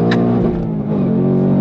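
A 2024 Ford Mustang Dark Horse V8 pulls hard on throttle in second gear from about 4,500 rpm, a loud sustained engine roar heard from inside the car.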